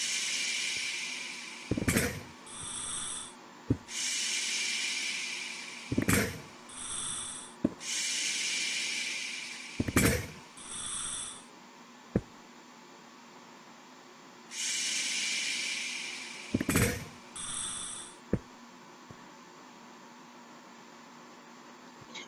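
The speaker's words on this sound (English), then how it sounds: "Give the boiler a little while to catch up." Steam boiler in the survival game Icecraft hissing in repeated loud bursts of a few seconds each, separated by quieter gaps with mechanical clunks and thumps, close and without talk.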